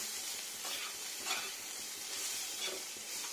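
Bitter gourd pieces frying in hot oil in a pan as part of a home-cooked summer lunch, a steady close sizzle with soft stirring scrapes and no talk.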